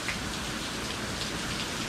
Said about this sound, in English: It's been raining torrentially for about an hour and a half.